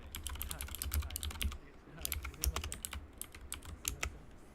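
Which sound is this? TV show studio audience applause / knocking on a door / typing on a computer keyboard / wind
typing on a computer keyboard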